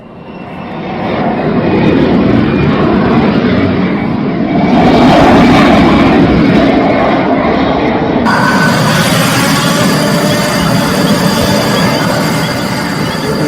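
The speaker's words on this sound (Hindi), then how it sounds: "देखिए कैसे अमेरिकी फाइटर जेट मिसाइल और रॉकेट दागने के बाद वापस लौट गए।" US fighter jets flying overhead after a strike operation, a loud continuous engine roar that swells and shifts in tone as the aircraft pass, heard without any talking.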